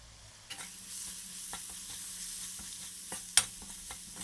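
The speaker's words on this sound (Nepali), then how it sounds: "यसमा स्वाद अनुसार नुन र बेसार एड गरेर हामी यसलाई सँगसँगै फ्राई गर्छौँ" Mutton frying and being stirred in a pan with salt, turmeric and freshly ground masala for a ghee roast: a steady soft sizzle with occasional scraping stirs and one sharper utensil clack, close by, with no voices.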